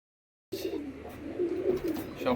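A pair of high-flying pigeons coo steadily from close by, with soft, low, rolling calls that continue after a brief silence at the start.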